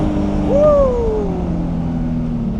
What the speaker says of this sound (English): Oh, those downshifts are really nice.